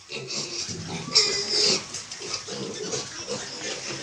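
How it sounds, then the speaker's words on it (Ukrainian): Piglets squeal and grunt close by in a noisy, restless chorus, with shrill cries rising over low snuffling. "непогані поросятка, довгі."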